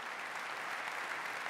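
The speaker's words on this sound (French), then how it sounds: "Applaudissements pour Fabien Grelier, s'il vous plaît." A short, even wash of audience applause at an event honouring the Vendée cycling industry, steady and soft throughout with no speech over it.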